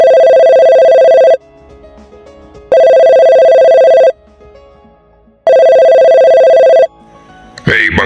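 A telephone rings in three long, loud steady tones separated by gaps filled with quiet room noise, ending with a brief clatter as the call connects; no one speaks.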